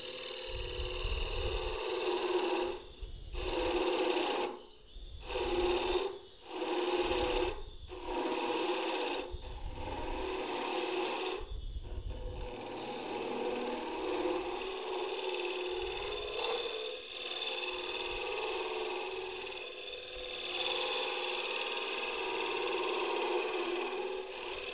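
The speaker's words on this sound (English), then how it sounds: "In with my square end scraper here" A square end scraper works a wooden mug on a lathe, a sustained raspy scraping under a constant motor hum, broken early by a series of rhythmic pulsing cuts before settling into continuous even shaving.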